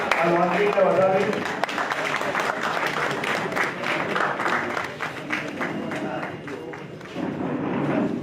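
Applause from an audience at the launch of the Pratibha Shodh Abhiyan campaign, steady clapping filling the whole stretch under a murmur of voices.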